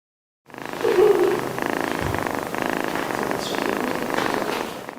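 A two-month-old kitten purrs close by, a soft continuous rumbling with a faint mew-like sound early on and light background noise around it.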